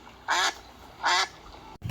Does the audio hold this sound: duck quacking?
yes